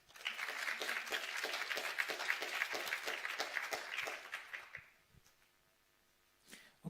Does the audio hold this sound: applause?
yes